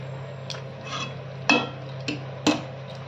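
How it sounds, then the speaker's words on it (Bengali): Soaked chickpeas and Odisha ghonto curry being stirred in a pan, with four distinct scraping clinks of a spoon against metal spread over a steady low kitchen hum. "পুরোটাকে ভালো করে নাড়বো।"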